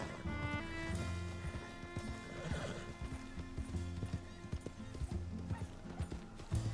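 Horse hooves clip-clop in a steady quick rhythm while riding in the video game Red Dead Redemption 2, with neighing and snorting over a constant background of game ambience.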